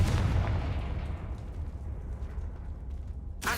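A Confringo fire blast spell explodes in Hogwarts Legacy: a loud booming burst at the start that decays into a long rumbling tail, with a second sharp blast right at the end.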